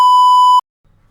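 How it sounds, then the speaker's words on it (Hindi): A single sharp, high-pitched electronic beep from a household appliance rings out steadily for about half a second, then cuts to silence. "अप्लायंसेस की बीप की आवाज़।"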